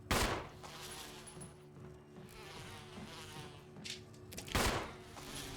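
A swarm of bees buzzes around a nest in the Resident Evil Remake video game, a dense insect drone sustained throughout with a few sharp bursts at the start and near the end.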